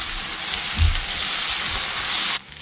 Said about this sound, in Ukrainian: Додаю гриби та обсмажую